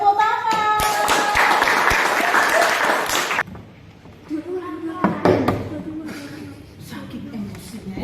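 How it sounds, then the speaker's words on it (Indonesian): A group of students in a guidance counseling session claps together in a dense, loud burst lasting a few seconds, then scattered claps and chatter follow as talk resumes. "Oke, tepuk tangan."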